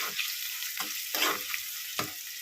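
Vegetables frying in hot oil in a pan with salt, turmeric and curry leaves, a steady close sizzle broken by several soft scraping stirs of the spatula.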